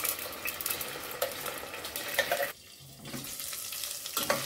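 Ground masala paste fries in hot oil in a pan, giving a steady close sizzle and crackle with stirring scrapes that briefly drop off before resuming.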